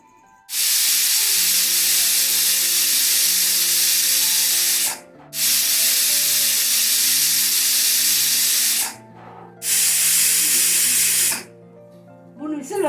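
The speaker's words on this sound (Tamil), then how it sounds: "மூணு விசில் வந்ததும் நம்ம எடுத்துருவோம்" A pressure cooker cooking dal for mixed vegetable sambar lets out loud, sustained hissing steam whistles in three long bursts, with a tonal hum underneath and brief pauses between releases.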